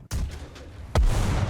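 Churchill AVRE heavy demolition gun firing in War Thunder, two loud booming reports: a sharp blast at the start and a heavier, deeper boom about a second later, each with a long rumbling tail.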